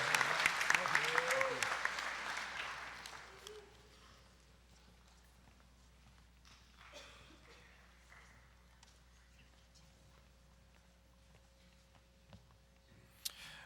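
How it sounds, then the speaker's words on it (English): Audience applause for a graduating senior at a high school senior celebration, loud and broad for the first few seconds, then thinning into scattered claps and quiet room noise. "Please join me in giving Colin a round of applause"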